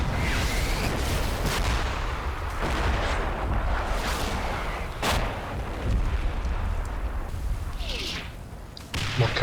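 Heavy artillery bombardment mixed with gunfire in the WWII tactical game Combat Mission, a continuous rumbling barrage of booming impacts and crackling shots at steady loudness for about nine seconds, with no talking.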